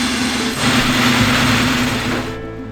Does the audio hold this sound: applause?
no